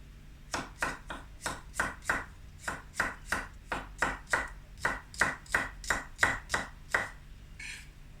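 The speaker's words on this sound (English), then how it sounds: "You can just slice these up." A knife slices through vegetables for a lamb potjie in about twenty brisk, evenly spaced cuts on a board, close and clear with no talk.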